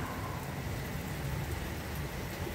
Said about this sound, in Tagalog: Malakas pa rin po ang ulan.